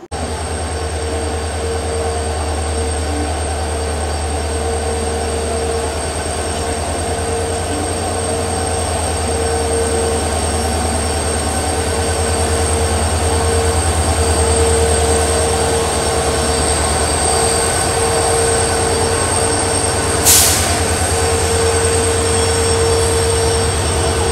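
Inside a general class coach of the Belagavi to KSR Bengaluru Superfast Express, loud steady rumble and rhythmic wheel clatter run throughout, with a brief sharp squeal near the end.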